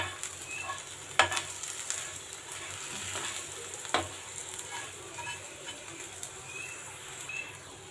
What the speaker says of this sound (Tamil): அப்படியே அது எண்ணெயிலே வேகட்டும்.